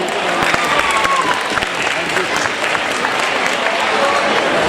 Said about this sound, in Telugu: అందుకే ఒక్కసారి మన మాయాబజార్ చిత్రరాజానికి చప్పట్లతో జోహార్లు చెప్దాం.